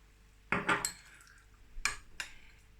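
Soy sauce goes into a bowl of vegan caviar and gets stirred, heard as a few close clinks and scrapes of a utensil against the dish in two short bursts, with quiet pauses between.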